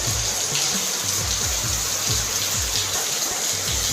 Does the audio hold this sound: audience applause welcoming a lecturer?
no